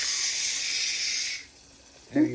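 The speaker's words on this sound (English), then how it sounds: "When you first when you're frying something, when you're cooking something, it's gonna be whoosh." A pork chop sizzles in a frying pan with a loud, steady hiss close by that drops away, and a voice speaks briefly at the end.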